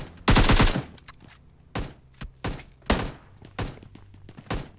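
Gunfire from the mobile shooter PUBG Mobile Lite: a sharp burst of rapid automatic fire opens, then single heavy shots and thuds follow at irregular intervals, loud and close, with no talk.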